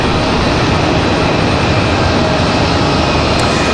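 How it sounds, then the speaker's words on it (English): Delta Airlines jet moving at Raleigh-Durham airport, a loud, steady engine rumble and hiss that fills the whole stretch without letting up. "Looks like we got a Delta Airlines on the move."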